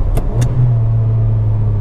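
A Ferrari 550 Maranello engine drones at a steady low pitch after two brief clicks, a close, continuous hum as the car drives along.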